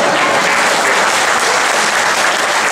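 A crowd at a 2015 political rally in Malacca claps loudly and steadily, a dense wash of applause heard nearby with no voices over it.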